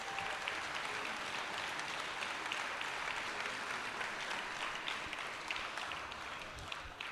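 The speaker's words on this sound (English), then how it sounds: "A round of applause." An audience at a miniature painting awards ceremony gives a sustained round of applause, many hands clapping evenly at a fairly distant, soft level that tapers slightly near the end.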